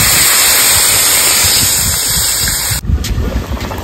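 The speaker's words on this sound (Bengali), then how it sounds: "দিয়ে দেবো জল।" Water poured into a cooking pot of potato and eggplant curry, a loud continuous rushing gush that stops abruptly near the end, followed by a few clattering knocks.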